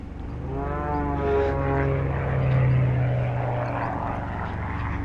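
A propeller aircraft engine drones steadily nearby, its tone swelling slightly and holding level throughout, with no voices over it.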